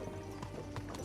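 Horses trot steadily with a clear clip-clop of hooves under a continuous low background, in the medieval game Kingdom Come: Deliverance 2.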